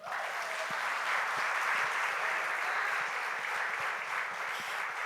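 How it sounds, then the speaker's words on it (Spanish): Sustained applause from a church audience at a Spanish-language interview event, a dense steady wash of many hands clapping at an even level for about five seconds. "Un fuerte aplauso nuevamente"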